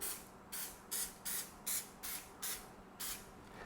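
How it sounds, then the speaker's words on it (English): Olive oil cooking spray hisses onto a tray of baked corn chips in a kitchen, about eight short, soft bursts in a steady rhythm with brief pauses between. "I simply sprayed them, and you don't even have to do this, with some olive oil spray"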